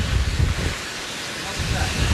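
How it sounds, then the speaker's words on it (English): Hurricane Irma's gusts roar in Florida as a heavy, rumbling wind that buffets the microphone, swelling and easing over a couple of seconds without pause. "And these gusts have to be well in excess of a general hurricane force gust."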